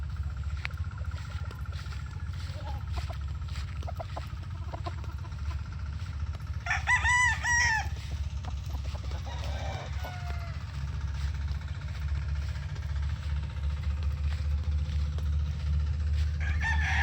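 Chickens roam outdoors near bamboo over a steady low background hum, and one rooster gives a single clear crow partway through, with brief clucking afterward.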